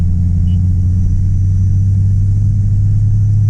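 A single-turbo BMW 335i drones steadily in fourth gear at under 30 mph, a constant low engine rumble heard from inside the car without speech.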